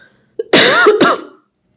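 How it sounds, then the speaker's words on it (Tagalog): A single close, harsh cough with a throat-clearing rasp, preceded by a short catch of breath, then silence. "Umuubo ako. Pasensya na po."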